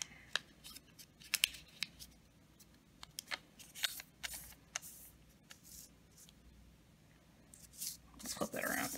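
Paper being creased and folded for an origami crane, with scattered sharp crisp crackles and rustles up close, a quieter stretch in the middle, then a louder rustling handling at the end.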